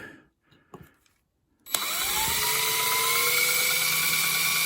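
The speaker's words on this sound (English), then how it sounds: "So let's drill this out." A power drill starts abruptly and runs steadily at high speed, loud and close, its whine shifting slightly as it bites into material while drilling out a spot for a horn wiring ground.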